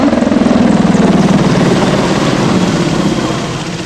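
EH101 Merlin helicopter flying a display pass, its rotor beating in a loud, steady rhythmic chop close by, then easing slightly as it moves off toward the end.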